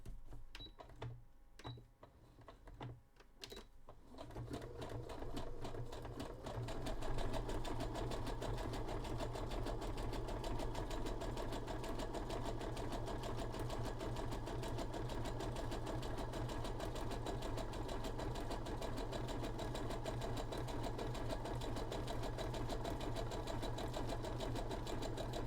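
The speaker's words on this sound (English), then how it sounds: "this machine has an overlocker stitch" A domestic sewing machine runs an overlock stitch along a fabric edge, whirring steadily and rapidly after a few hesitant starts, close and continuous.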